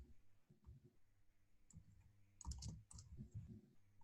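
Fingers type on a computer keyboard in a quiet office, a soft run of light key clicks with a brief faster burst in the middle, close and low in level.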